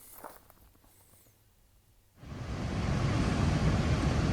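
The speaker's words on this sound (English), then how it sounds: "Well, technically it's a waterfall, but pretty sure it's a dam." Water pours over a dam along the Potomac Heritage Trail, a broad roaring rush that swells in abruptly after a quiet stretch with faint footsteps, then holds loud and steady.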